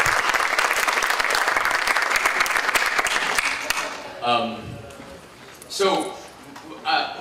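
Audience applause for keynote speaker Thomas Fluharty at the ISCA Con 26 convention, dense clapping filling the first few seconds before fading, followed by someone talking close to the microphone.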